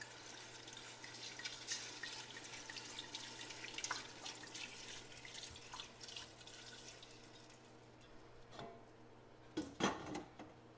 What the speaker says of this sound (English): All you need to do now is add 2 cups of the wine.